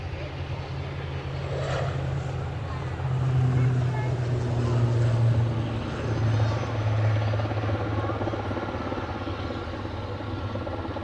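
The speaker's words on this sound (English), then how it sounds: "There's a plane moving." An aircraft at Aberdeen airport, a busy heliport, moves with a steady droning engine hum that swells and fades slightly, accompanied by a constant low rumble.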